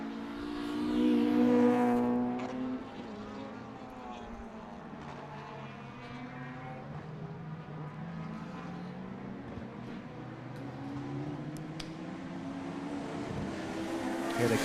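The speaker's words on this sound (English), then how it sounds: "Here they come down the straight, and Cian Walsh has made a bit of a break" Race cars roar down the straight of a circuit during a round of the ICCR 2024 championship, including a small Honda CRX, a steady loud engine drone swelling early and holding as the field passes, with commentary talk over it.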